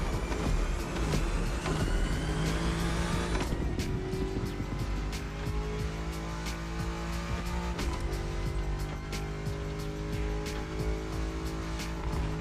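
A BMW M5 CS in The Crew Motorfest accelerates hard, its engine note climbing steadily and loud, with a sudden shift near 3.5 seconds and another around 8 seconds as it keeps pulling.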